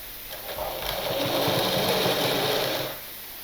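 A sewing machine joins blouse pieces in one close, steady whirring run of stitching that starts, holds for a few seconds and then stops.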